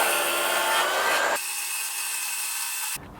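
DeWALT 20V brushless cordless circular saw (DCS570B) cutting through wood, a steady loud whirring cut that drops to a lower motor hum as the blade clears, then ends abruptly near the close.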